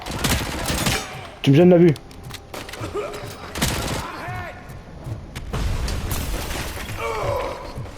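Submachine gun fire in the Robocop Rogue City video game, with loud dense bursts of shots and impacts running throughout under someone talking.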